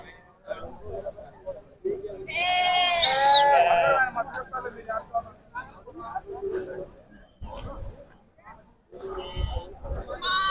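Sheep bleat at a sheep market in Banaganapalle, several loud, wavering calls close by, mixed with people talking and general market chatter.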